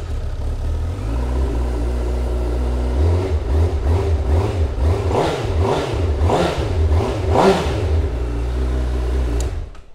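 A 2019 Honda CBR1000RR Fireblade sportbike on its standard exhaust idles, then revs in a run of about five sharp, rising throttle blips that drop back each time, close and loud, with no talking.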